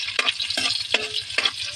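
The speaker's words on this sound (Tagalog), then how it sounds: "ilagay na natin yung sibuyas." Onions fry in a pan with a hot, steady sizzle, broken by four quick rhythmic scrapes of a spatula stirring them, close up and without speech.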